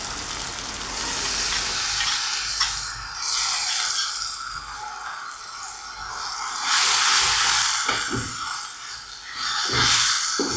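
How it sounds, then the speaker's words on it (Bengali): Chili powder, coriander powder and onion paste stirred together in a hot pan for a restaurant-style taki fish bhorta, a loud continuous sizzle and hiss with scraping stirring strokes that swell and fade, close up, with no talking. "সব কিছু ঢেলে ভালোভাবে নাড়তে হবে।"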